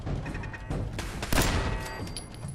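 Turret gunfire in the video game Fallout 4, a dense fusillade of rapid shots with a louder burst near the middle, steady and fairly close throughout.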